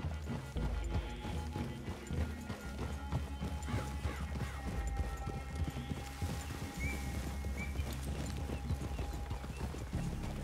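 Horse hooves clip-clop steadily in the Red Dead Redemption 2 video game, a close, rhythmic clatter of several horses under low rumbling ambience, with an occasional whinny and no talk.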